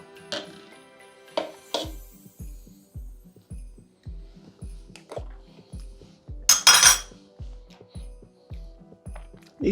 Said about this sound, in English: we're gonna take out a spoon and give it a taste